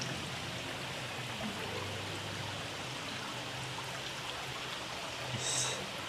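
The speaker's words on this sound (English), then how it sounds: "stream of drip of water just coming down, and then it's almost like a miniature waterfall" Water streams and drips steadily into an aquarium like a tiny waterfall, a constant close trickling wash running unbroken throughout.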